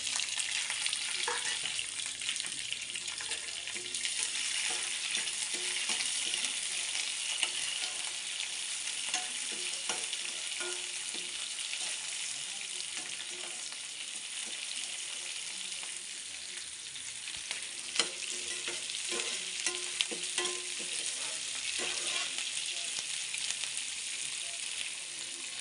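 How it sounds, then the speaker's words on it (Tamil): Onions fry and sizzle in a pan for curry leaf chutney, a steady close hiss running throughout with occasional faint scrapes as they are stirred. "வெங்காயம் நல்லா வதங்கட்டும்."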